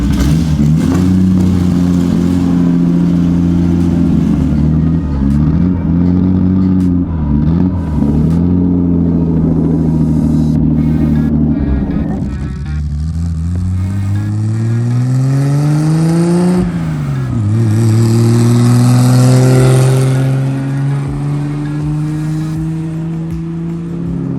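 A Nissan R32 GTR engine running naturally aspirated on a base map, on its first drive, holds a loud steady drone, then climbs through rising revs and a sharp blip before settling into another long pull. No one talks.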